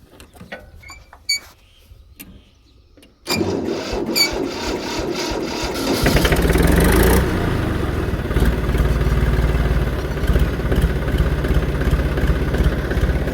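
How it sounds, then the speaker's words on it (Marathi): A wet tractor cranks and cold-starts on a foggy farm morning: quiet clicks and knocks first, then the engine catches abruptly and settles into a loud, rough, steady diesel idle close by. "Cold start."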